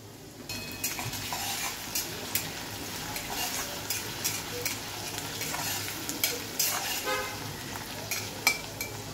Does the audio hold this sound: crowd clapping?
no